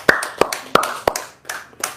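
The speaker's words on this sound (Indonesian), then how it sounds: "Oh, tepuk tangan dong." A few sharp hand claps at a casual Indonesian gathering, scattered and uneven rather than a full round, loud and close with brief gaps between them.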